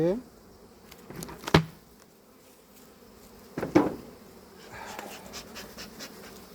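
Honey bees around an open beehive during a colony inspection give a faint, steady buzz, with two brief louder bursts near the microphone and light handling noise.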